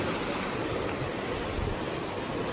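A snowmelt-swollen river runs high and fast, giving a steady, dense, close rushing roar of water with no pauses and no voices.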